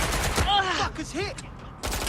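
Gunfire in the open-world action game Watch Dogs: Legion, short loud bursts at the start and end with a character's voice calling out between them.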